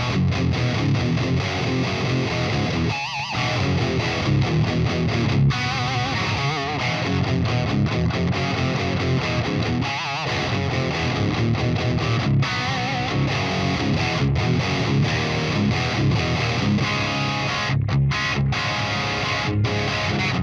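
An electric guitar plays through a Quick Rod Marshall-style amp, stepping down through gain settings. The distorted, continuous playing is loud and dense, with brief pauses between phrases and no speech.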